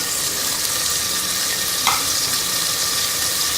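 Green chilies and spices for mash daal fry in hot oil in a pan, a steady loud sizzle throughout with a brief squeaky scrape near the middle and no talking.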